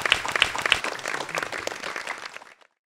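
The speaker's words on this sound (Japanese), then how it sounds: "皆様大きな拍手をお願いいたします。" Audience applause at an architecture exhibition award ceremony, a short burst of many people clapping that is steady at first and then quickly dies away into silence.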